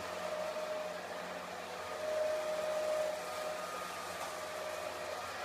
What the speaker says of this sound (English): This is the compressor room.